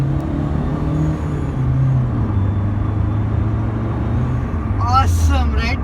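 Engine of a 2012 Hyundai Verna Fluidic pulling hard on a test drive, heard from inside the car as a steady low rumble with rising tone, road noise beneath and a brief squeak near the end.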